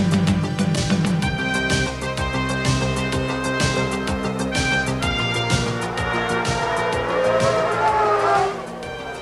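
Formula 1 cars race on a wet track at the 1991 San Marino Grand Prix as a Ferrari spins out, with loud, continuous high-pitched engine whine and brief tyre squeal.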